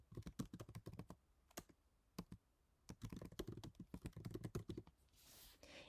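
Fast, irregular keystrokes on a computer keyboard as a file name is entered, crisp close clicks in bursts with short pauses, no voices.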